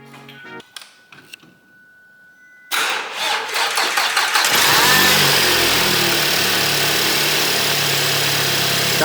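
A car engine cranks over with a short starter whir, catches and fires, then settles into a loud, steady, rough idle close by, after a few quiet clicks and knocks beforehand.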